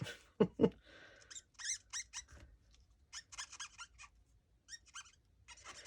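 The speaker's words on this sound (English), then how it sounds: "I do like the sound it makes, the squeaky sound." Copic markers squeak against transparency film in a run of short, close, high-pitched bursts following each stroke, fairly quiet and irregular with brief pauses between.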